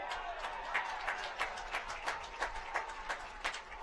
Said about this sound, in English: Everybody's alive and talking, cheering.